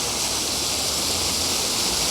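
Lit fountain spouts in Béziers, France, splash and hiss in a dense, continuous close wash of falling water with no pauses.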